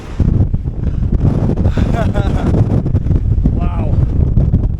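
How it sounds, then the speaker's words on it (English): Strong wind buffets the microphone while hiking an exposed edge in the Yorkshire Dales in snowy conditions, a loud continuous roar throughout, with a person talking over it. "Right, this wind's picking up, so let's not be silly."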